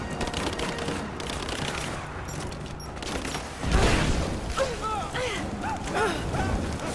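Rapid gunfire crackles in the Rise of the Tomb Raider video game during a combat firefight. Dense, sustained bursts and a heavy boom midway sit over loud battle noise, with scattered mechanical clicks.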